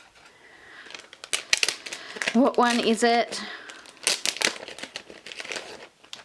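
A plastic blind-bag pouch is torn open by hand, giving crinkling and ripping bursts with a short squeaky stretch near the middle, close up, while a person talks briefly.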